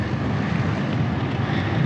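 Steady wind rushes and buffets against the microphone while riding home into a light headwind near La Rochelle, a loud continuous low roar with no talk.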